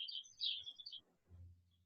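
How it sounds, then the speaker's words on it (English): Pet birds chirping at a home, a burst of bright high tweets in the first second that fades, followed by a low rumble near the end. "Those are my birds, sorry."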